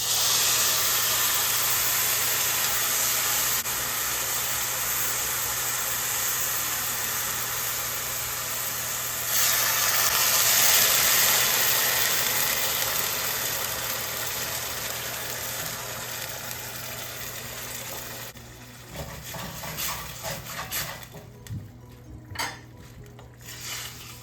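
A steady, broad hiss of rice and boiling stock simmering in a pan for suppli continues at an even level, joined near the end by a few clinks and scrapes.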